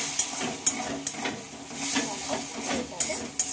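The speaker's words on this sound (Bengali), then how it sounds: "এবার মশলাটা একটু ভালোভাবে দিয়ে কষিয়ে নেবো।" Spice paste with turmeric, salt and a little water sautéing in a pan for a red lentil dal, loud steamy sizzling with regular sharp spatula knocks as it is stirred, no one talking.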